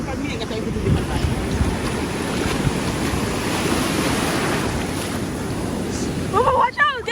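Surf rolling in at Cocoa Beach, a steady broadband wash of breaking ocean waves with wind buffeting the microphone throughout, and a brief voice near the end.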